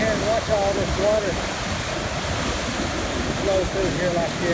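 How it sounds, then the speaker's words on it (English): A heavy torrent of floodwater rushes across a road just above a waterfall, a steady close roar for the whole stretch, with faint voices partly buried beneath it. "Still a ton of water."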